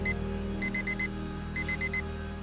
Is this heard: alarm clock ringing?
yes